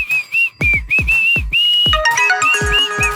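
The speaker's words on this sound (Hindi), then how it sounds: "अरे ये सुब्बा राव ना फोन करके मुझे परेशान कर रहा है" A bright electronic melody rings out in repeated tonal phrases, a ringtone tune with sharp plucked notes underneath, loud and close with no talking.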